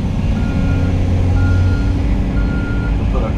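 A haul truck backing up gives a steady run of loud reversing beeps over a heavy, rumbling diesel engine.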